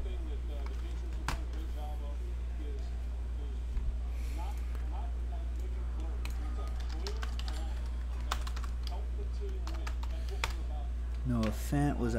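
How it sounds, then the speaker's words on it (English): Soft, irregular clicks of typing on a computer keyboard during a football trading card box break, continuing in short bursts with a few sharper taps, quiet against a low steady hum. "Let me type in the hits."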